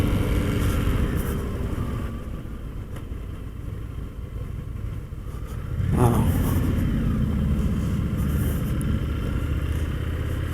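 An Indian FTR 1200 motorcycle rolls slowly through city streets, its engine rumbling steadily up close with a swell of revving midway, while a rider talks over it.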